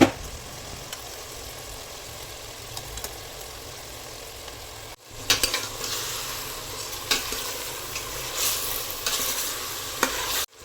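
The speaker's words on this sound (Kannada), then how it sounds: "ಈಗ ಮಟನ್ ಪೀಸಸ್ ಬೇಯಿಸಿಟ್ಟಿದ್ವಲ್ಲ ಅದನ್ನು ಹಾಕ್ತಿದ್ದೀನಿ ಇಲ್ಲಿ." Cooked mutton pieces dropped into an onion-tomato masala and stirred, a low steady sizzle that gives way after a short gap to louder scraping and rattling stirs in the pan, close by.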